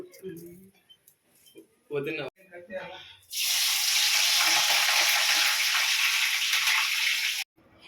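Oil for a chicken curry hits the pan and bursts into a loud, steady sizzle lasting several seconds after brief talk and clatter, then cuts off abruptly.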